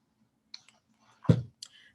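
Phone keys tapped in a few quick, light clicks, separated by brief pauses, close and quiet.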